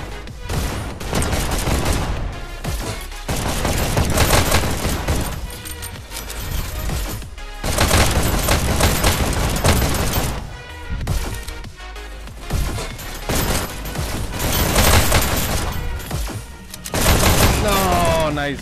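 Rapid, loud gunfire in the VR shooter game Hyperdash, coming in dense bursts of overlapping shots separated by short pauses, while a player talks over the shooting.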